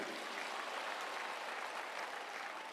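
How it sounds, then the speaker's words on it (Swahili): An audience claps steadily through the whole span, a dense, even burst of applause from a crowd with no clear voices on top. "Si mjipigie makofi jameni."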